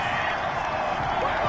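Simulated stadium crowd in an American football video game reacts with a sustained, dense murmur and groaning roar after an incomplete deep pass, steady and broad throughout.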